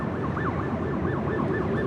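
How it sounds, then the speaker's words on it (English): Emergency vehicle sirens wail near Los Angeles International Airport on Century Boulevard, a steady rising-and-falling siren tone over continuous traffic and engine rumble, moderately distant. "I hear it. I hear the sirens."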